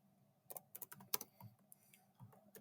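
Soft keystrokes on a computer keyboard while entering a string into a statistics program, arriving as a few scattered taps and short bursts, faint and close, with no talk.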